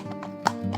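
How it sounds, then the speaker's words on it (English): A horse's hooves clip-clop in a few steady steps, with a soft sustained tonal hum beneath the taps. "I heard at a great distance the sound of a horse's feet."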